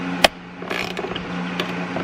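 A socket ratchet turns a 10 mm bolt inside a Toyota Tundra, starting with one sharp click, then a quick run of close ratcheting clicks and a few lighter taps.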